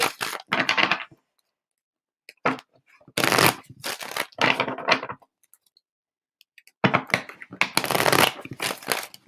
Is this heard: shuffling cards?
yes